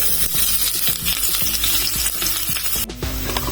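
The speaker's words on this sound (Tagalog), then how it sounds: "Papalabasin muna natin ang katas ng ginger bago natin ilagay ang onion." Ginger and onion sauté in a pot for a pork vegetable soup, with a loud, steady sizzle and frying crackle under repeated stirring scrapes. It is close up, with no talking.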